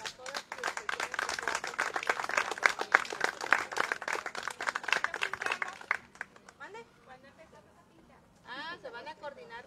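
A group applauds the municipal president at a Villa de Álvarez town council gathering, brisk clapping for about six seconds that thins and gives way to speech.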